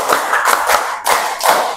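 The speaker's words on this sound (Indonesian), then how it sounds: "coba yuk, tepuk 6 kali" A group in a classroom-style teacher workshop clapping together in unison, about six sharp, fairly loud claps spaced unevenly across under two seconds.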